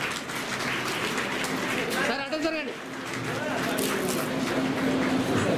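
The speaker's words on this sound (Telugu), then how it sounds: "గట్టిగా చప్పట్లు." Applause from an audience at a book launch event, a dense, steady wash of clapping that runs through the whole stretch at an even loudness, with a voice briefly heard in the middle.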